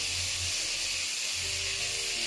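Tomatoes frying in onion masala for a mushroom biryani give off a steady, soft hiss close by, with a faint low hum beneath and no voices.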